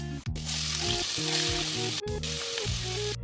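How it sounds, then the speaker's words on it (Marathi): Finely chopped onion dropped into hot tempering oil sizzles loudly and steadily, a continuous close hiss with a brief break, for a dry capsicum stir-fry. "एक कांदा घेतलाय बारीक असा कट करून घेतलाय तो फोडणीवर घालायचा आहे"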